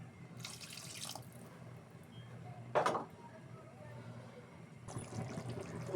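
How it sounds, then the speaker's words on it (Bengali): Water runs into a pan of rohu fish curry in bursts, with a steady splashing flow, one brief louder gush, and a final stream, close and fairly loud throughout. "আর একটু জল দেবো, এতটুকু থাকবো।"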